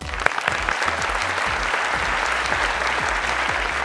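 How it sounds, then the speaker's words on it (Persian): A studio audience on a Persian-language Family Feud game show applauds loudly and steadily throughout, a dense wash of clapping over a low rhythmic thumping beat. "تشویق کنیم"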